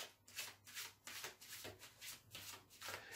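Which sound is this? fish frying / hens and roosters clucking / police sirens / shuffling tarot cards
shuffling tarot cards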